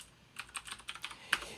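Typing on a computer keyboard while writing Python code, a quiet run of about ten soft key clicks in an uneven rhythm, close by with no talk.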